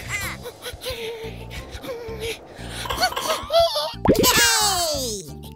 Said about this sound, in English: And plop in some fresh blueberries.